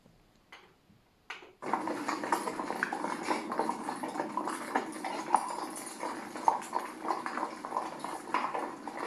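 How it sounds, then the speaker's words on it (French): Horse hooves clip-clop on a horse ride, an even rhythmic clopping that starts after a brief quiet moment and carries on steadily at moderate loudness with no talking. "c'est une balade à cheval"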